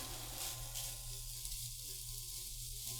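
Bacon bits sizzling steadily in a frying pan as they finish cooking, a constant crackling hiss at moderate level with no talk.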